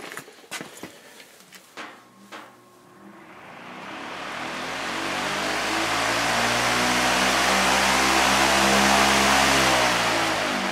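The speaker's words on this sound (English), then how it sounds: "I'll turn this one on low real quick." A Dayton high velocity fan starts up and spins up on low speed, rising into a steady, loud whirring drone with a broad airy rush and a low motor hum, after a few faint clicks and handling knocks at the start.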